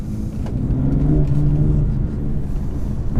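A BMW M4 with a dual-clutch gearbox and 60,000 miles on it, heard from inside while driving, gives a steady low engine rumble with a slight rising rev in the middle, continuous and close, with no talking.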